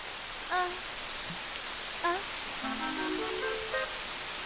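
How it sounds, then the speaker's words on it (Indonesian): Cartoon rain falls as a steady broadband hiss across the whole stretch, with brief tonal character voices and calls rising over it. "Aduh, kenapa hujan?"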